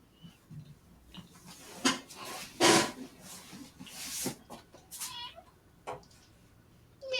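A cat in the game Hustle Cat meows in several short, separate calls spread over a few seconds, some louder and some softer, with quiet gaps between them.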